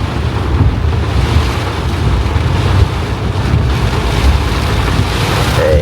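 Floodwater rushes quickly past a stuck truck as a strong, continuous broadband wash of flowing water, with wind buffeting the microphone.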